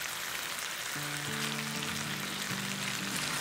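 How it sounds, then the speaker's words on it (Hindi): Chicken pieces fry in a pan with a steady, dense sizzle and crackle. A faint tonal hum drifts in and out beneath the sizzle, and no voices are heard. "चिकन के पीस को थोड़ा सा साइड में कर लेते हैं और इसको भून लेते हैं"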